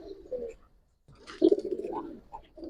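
A female Giribaz pigeon of the Palla line coos in low, throaty, rolling notes, a short phrase, a brief silence, then a longer burbling coo, close and fairly soft.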